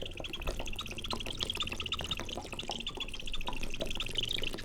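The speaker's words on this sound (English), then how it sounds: "Sorry, this water bottle makes a weird sound." Water trickles and drips steadily with a crinkly plastic crackle, soft and close, with no voices.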